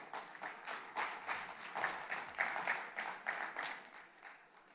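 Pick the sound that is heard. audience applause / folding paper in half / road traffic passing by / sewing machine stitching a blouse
audience applause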